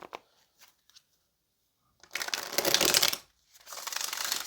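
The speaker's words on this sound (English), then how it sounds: "let's go ahead and get one more shuffle" Tarot cards being shuffled, two bursts of riffling flutter, the first about a second and a half, then a second after a short pause; close and crisp.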